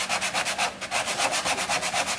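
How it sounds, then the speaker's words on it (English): Hand sanding of wood with sandpaper on a wood bank project: steady rhythmic back-and-forth scratchy strokes, about two per second, close and fairly loud with no talk. "Sand it a little bit at a time."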